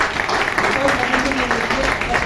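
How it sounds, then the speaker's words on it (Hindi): A seminar audience of a women's association in Jabalpur claps loudly and steadily for a woman guest. The applause is close and continuous, with voices mixed in underneath. "तो रूबी मैडम जी के लिए जोरदार तालियां।"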